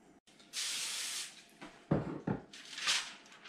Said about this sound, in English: I'm spraying the foil that I'm covering this with non-stick spray.